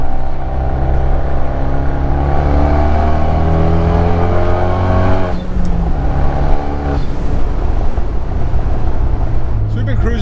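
A Fiat 124 Spider with an aftermarket exhaust cruising, its steady droning exhaust note loud and close from inside the car, with a brief shift in pitch partway through and a person talking over it.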